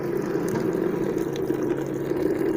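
Water pouring into a tank to trigger the automatic start of a solar-powered pump in an off-grid system, a steady continuous gush and splash with a faint mechanical hum beneath.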